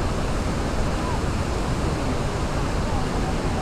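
Steady, dense rushing water of Englishman River Falls on Vancouver Island roars continuously at close range, a broad unbroken wash of noise with no pauses.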